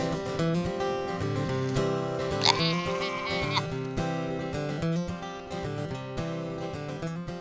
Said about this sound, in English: The sheep take care of me. They're the most beautiful faces.